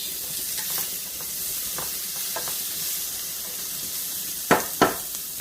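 Carrots and potatoes simmering in a pot give a soft, continuous bubbling hiss at low volume, dotted with a few faint pops and two sharper clinks near the end.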